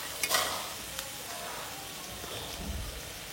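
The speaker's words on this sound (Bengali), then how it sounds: "পেঁয়াজটাকে কিছুক্ষণ রেখেছিলাম এখানে, একটু অর্ধেক ভাজার পরে অর্ধেক ভাজা করে নেব এটাকে সুন্দর মতো" Sliced onions sizzle and crackle steadily in hot oil in a pan, half-fried while cooking chicken pulao, close and continuous with a brief louder stir near the start.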